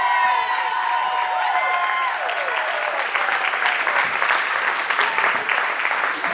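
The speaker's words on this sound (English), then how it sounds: "they deserve a second round of applause for that" Wedding guests at a rustic venue applaud and cheer after the couple's first dance, loud sustained clapping mixed with whoops and high shouts, a voice speaking over the start as the crowd noise builds and holds.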